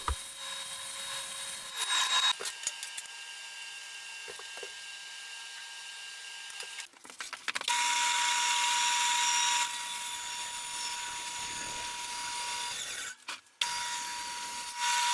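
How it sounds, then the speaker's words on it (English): A table saw cuts a wood piece in half, its loud steady whine broken by a few pauses and sharp changes, with bursts of near buzzing and rasping as the blade goes through the board. "I can run that piece through the table saw and cut it in half"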